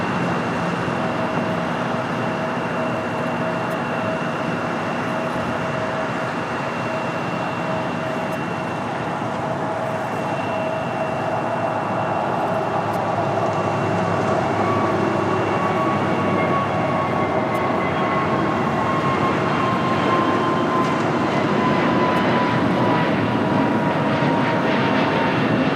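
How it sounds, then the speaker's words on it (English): A Frontier Airbus A320neo in Desert Tortoise livery takes off at LAX, a long sustained jet roar with steady whining engine tones that slowly grows louder and shifts in pitch, with no voices. "Next takeoff is the Frontier Mojave the Desert Tortoise livery, flight 3156, heading to Denver."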